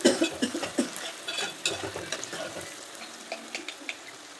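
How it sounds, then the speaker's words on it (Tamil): Masala stirred with salt in a cooking pan, giving soft scraping and swishing strokes in an irregular rhythm, close and moderately quiet, with a faint wet sizzle beneath. "இப்போ கலக்கு எல்லாம் பச்சை ஸ்மெல் போகிற வரைக்கும்"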